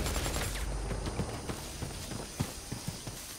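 Rapid gunfire from the video game Predator Hunting Grounds, a loud dense stream of sharp shots and impacts continuing through the whole moment with no talk.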